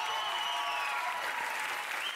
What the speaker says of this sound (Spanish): Un aplauso para ella, por favor.